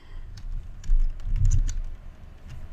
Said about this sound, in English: So you can also start typing the font names here.